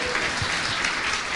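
Congregation applauding during a church worship service, a dense, steady wash of clapping that stays loud and even from start to finish.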